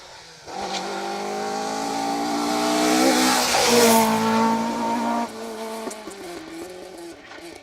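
Rally car 67 at speed on Stage 3 of the Down Rally 2023. The loud engine note swells as the car approaches, peaks with rising revs, then fades as it passes by on the stage.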